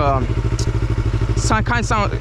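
A Yamaha R3 motorcycle with stock exhaust chugs steadily at a low, throbbing idle nearby, with a voice briefly speaking over it toward the end.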